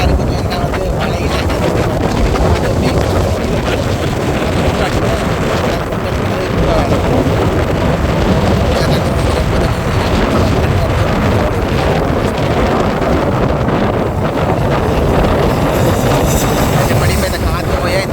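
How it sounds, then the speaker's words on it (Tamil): Strong storm wind on the Jaffna coast, a loud continuous roaring rush buffeting the microphone for the whole stretch with no break. "கொஞ்சம் காற்று கூட அடிக்குது."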